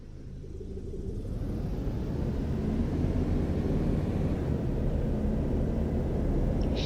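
An aircraft tug in a video game drives steadily, its low engine rumble building slightly and then holding a constant, close, even drone throughout.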